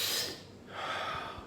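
Two quick, forceful breaths in a row, a sharp inhale-like rush followed by a second airy breath, close and fairly loud with no talking, as in a calming breathing exercise.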